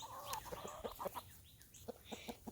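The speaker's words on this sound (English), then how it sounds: "There's my chickens." Chickens in a farm chicken pen clucking in short, scattered bursts, one bird giving a drawn-out call at the start, quiet and fairly close.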